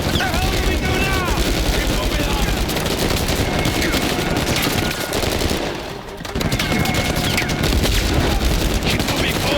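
Sustained automatic gunfire and bursts of shots in a firefight in the video game Uncharted 4, loud and dense throughout with a brief lull midway, under shouted voices.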